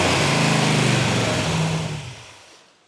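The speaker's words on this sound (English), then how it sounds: "as quick as you hit that throttle, it revs" A car engine with a thumping cam revs loudly and close, holding a rough, rumbling tone before the revs fall away and fade out.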